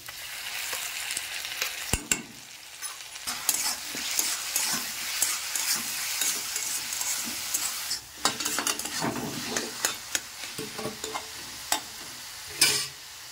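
Garlic and tomato paste sizzle in a pan with browned onions, a steady close frying hiss broken by scraping stirs and occasional sharp spatters, with no talk.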